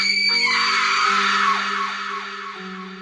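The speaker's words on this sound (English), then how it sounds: "She screamed, struggling against the unseen force." A woman screams in terror within a horror story narration set in a haunted hospital, a long, loud, sustained shriek that wavers and slowly fades, with no talk over it.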